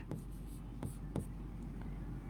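Chalk or a marker writes on a board in a few short, scratchy strokes spaced apart, faint and close in a quiet room.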